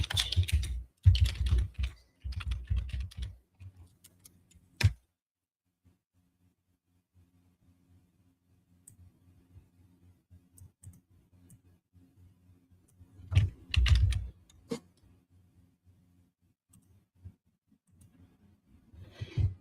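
Bursts of rapid light tapping, like thumbs typing on a phone, come in two clusters separated by a stretch of quiet low hum.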